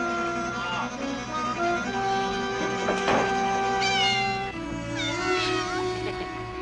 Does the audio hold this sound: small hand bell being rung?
no